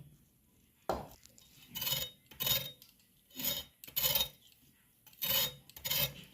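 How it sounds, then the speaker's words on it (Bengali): A knife slicing unpeeled radishes into rounds on a board, a string of crisp rasping cuts in irregular bursts, close and fairly quiet with short silences between strokes. "এবার আমি মূলোগুলো কেটে নেব।"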